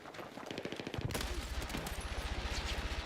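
Sustained suppressing fire in the Battlefield 6 beta: a fast, even automatic-weapon rhythm of punchy thumping shots running nearly the whole time, close and loud, with a brief heavier burst near the start.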